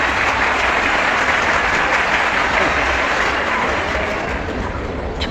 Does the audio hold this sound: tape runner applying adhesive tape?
no